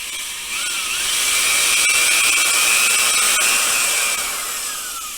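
Power drill boring at an angle into a birch log for an easel leg, a steady high whine with a slight pitch sweep that sustains for several seconds at close range, with no talking.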